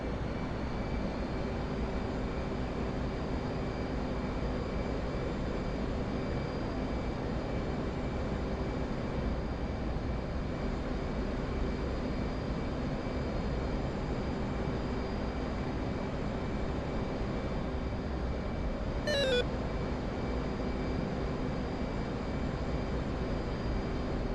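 Steady jet engine drone of an F/A-18 in the DCS World flight simulator, a constant moderate hum with a brief high chirp near the end.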